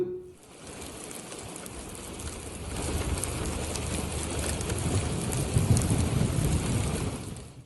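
Rain falling in Saudi Arabia as hot weather ends, heard as a steady soft hiss with a low wind-like rumble that slowly builds in loudness, no voices.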